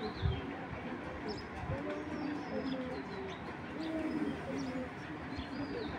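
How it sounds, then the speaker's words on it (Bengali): Racing pigeons coo softly in a low, repeated burbling, heard close but quiet over a busy, noisy background. "তো চলো না এই কবুতর দুইটা দেখাই"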